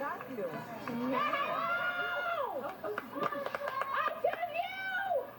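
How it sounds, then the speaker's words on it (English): Girls in a softball dugout cheer, shout and clap in a close, lively jumble of voices, with quick hand claps and chanting rising toward the end; speech mixes in throughout. "She's surrounded by a bunch of cheering, so we can hear everybody in that dugout."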